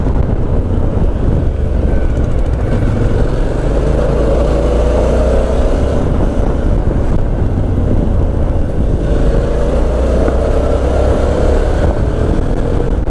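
An adventure motorcycle being ridden, with a loud steady engine drone mixed with heavy wind rush over the microphone throughout, and no speech.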